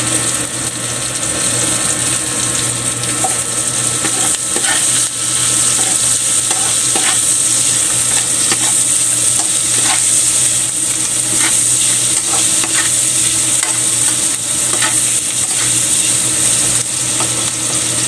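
Ginger drops into hot oil for a fish escabeche, crackling and sizzling loudly and without a break, with scattered sharp pops and the clatter of stirring over a dense frying hiss.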